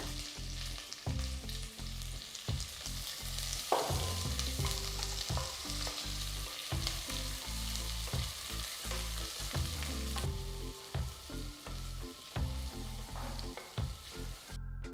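Sliced onions and whole spices sizzle steadily in oil in a pan with occasional stirring scrapes and clinks, a constant hiss filling the background.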